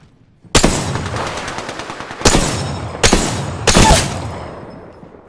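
Automatic weapons fire in the shooter game Apex Legends comes in several loud, close bursts of rapid gunshots, each separated by short pauses, with the last burst ringing out and fading away.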